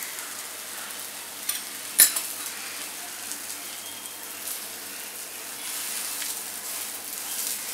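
Maize flour thalipeeth sizzles in a little oil on a pan, a soft, steady frying hiss broken by one sharp utensil clink against the pan, with no one speaking.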